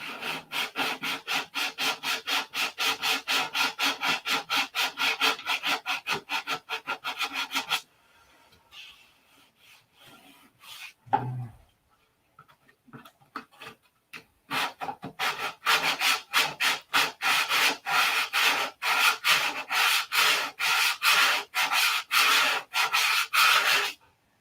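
Sandpaper works the wing fillets on a P-47 model in steady, rhythmic back-and-forth strokes close by. There is a short pause in the middle before the strokes resume, and no talking.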